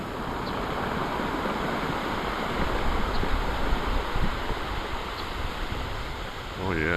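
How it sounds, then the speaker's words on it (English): Big waves at Narragansett Bay on a windy day make a continuous loud surf roar mixed with wind buffeting the microphone, and a voice briefly breaks in at the very end. "Okay, here's some waves."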